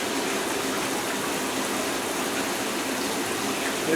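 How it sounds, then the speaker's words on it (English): Carbon fiber being rinsed under running water, a steady broad gushing splash that stays constant and close throughout. "here it is being rinsed."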